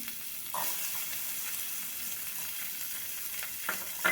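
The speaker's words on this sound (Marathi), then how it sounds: "स्वीट कॉर्न आपले जे आहेत ते सगळं परतवून घ्यायचं आहे" Onion, capsicum and sweet corn sauté in half a tablespoon of butter, giving a steady close sizzle with a few brief louder crackles and stirring scrapes.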